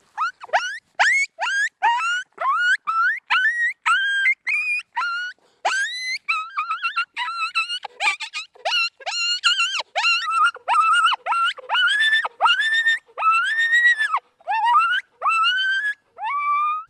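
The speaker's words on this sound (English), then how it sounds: "Gonna go right to pup distress on the Sonic Dome." Pup distress calls from a Sonic Dome electronic predator caller: a long, loud run of rising, wavering whines and yelps repeating in quick succession, with no talk.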